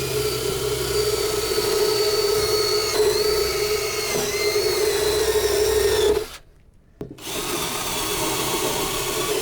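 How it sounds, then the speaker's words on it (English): A drill spins a wire brush against the rusty door pinch seam of an 84-01 Jeep XJ, whining loud and steady with scratchy bristle noise. It stops briefly for a near-silent gap, then starts up again. "give it the old wire brush treatment"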